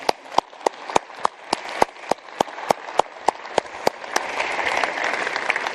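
Applause from an audience thanking the 99 PA ODP players at an evening event: a steady run of sharp, loud claps in a regular rhythm, swelling into denser, sustained clapping from many hands toward the end, with no talk.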